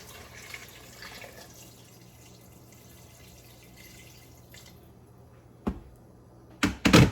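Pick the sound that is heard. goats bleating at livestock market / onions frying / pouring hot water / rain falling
pouring hot water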